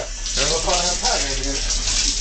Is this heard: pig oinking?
no